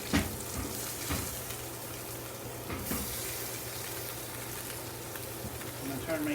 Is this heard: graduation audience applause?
no